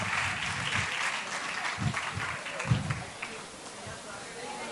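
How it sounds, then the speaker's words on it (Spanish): Audience applause, a steady wash of clapping from a crowd, with a few voices mixed in as it gradually fades. "Un aplauso para ustedes, muy bien."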